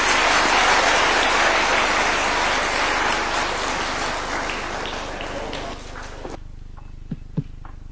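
A large audience at a Kenyan Katiba Day event applauds the President after his speech, heavy sustained clapping that gradually thins and fades out, leaving near quiet with a few scattered knocks.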